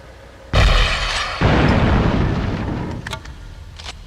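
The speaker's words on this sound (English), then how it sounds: "This hard-hitting compact launcher has excellent armor-penetrating specs and can also be used as a bunker buster" A shoulder-fired compact launcher rocket detonates in Ghost Recon, a sudden loud blast at close range that rolls into a long rumbling decay, followed by a few faint crackles.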